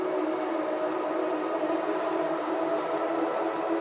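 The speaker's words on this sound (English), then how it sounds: "this thrilling and winding train ride on the world's first, oldest, and longest cave railway" Train ride on the world's oldest and longest cave railway, running through underground karst tunnels and galleries; a steady, continuous rumble with a droning tonal hum holds evenly throughout, with no voices.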